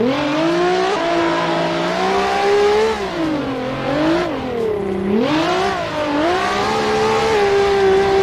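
A car drifting in the racing game Assetto Corsa, its engine holding a loud, steady high-revving whine that rises and falls as the throttle is worked, with a brief dip near the middle and no talk.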